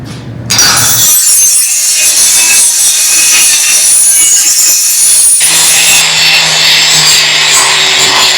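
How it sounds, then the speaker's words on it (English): Cutting tool slicing steel plates off an International Harvester Scout front bumper, a loud continuous grinding rasp that starts abruptly and runs without break, shifting tone partway through. "cutting the steel plates off the front bumper."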